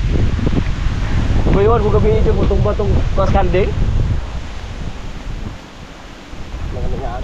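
Strong wind blowing outdoors in a rural Philippine farm setting, a steady roar buffeting the microphone, with someone talking over it.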